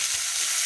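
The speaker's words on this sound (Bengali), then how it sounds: "আলুগুলো একটু হালকা ভেজে নিই" Potatoes fry in hot oil in a pan, a steady, dense sizzle that stays loud and unbroken throughout, with no voices.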